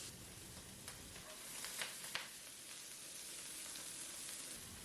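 Mushrooms sautéing in a steel wok give a continuous, fairly quiet sizzle with a few small clicks and stirring taps.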